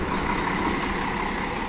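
A Guanabara intercity bus pulls into the Recife bus station, its diesel engine giving a steady, close, rumbling drone with no pauses.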